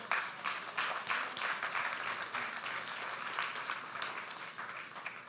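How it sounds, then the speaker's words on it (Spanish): Congregation applauding during a Spanish-language worship service in a church, a steady wash of mixed claps held at moderate level for several seconds with no talk over it. "Dale un aplauso al Señor."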